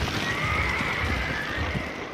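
Wild horses on the range neighing, a drawn-out whinny over a steady wash of outdoor noise and scattered low thuds, moderately loud and fairly near.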